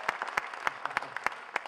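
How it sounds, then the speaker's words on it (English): Scattered claps ring out at an evening show in Moore, Oklahoma, as the audience thanks the sound and lights crew, sparse and uneven handclaps with no voices over them. "How about a round of applause for those running our sound and lights tonight?"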